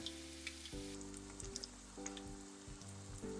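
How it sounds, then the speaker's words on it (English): Corn kakiage sizzles as it deep fries in oil over medium heat, a soft, steady crackle and hiss heard faintly and alone, with a few clicks on top. "Deep fry them for about 5 minutes over medium heat until they are nice brown and crispy."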